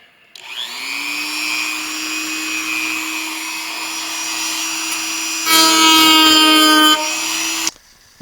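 A Dremel rotary tool spins up and runs steadily with a loud, high-pitched whine, rising to a harsher, louder pitch near the end before shutting off, alone and close by, while a junk guitar is made into a shelf.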